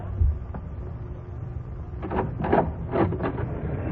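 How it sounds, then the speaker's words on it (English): A door opens in an old-time radio crime drama, a low muffled creak and shuffle followed by a few thumping knocks, close and fairly loud, with no voices. "Go open the door, Doc."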